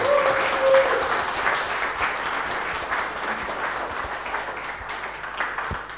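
Steady studio audience applause on a late-night German cooking show, a dense, even wash of clapping that keeps going at a fairly loud level throughout.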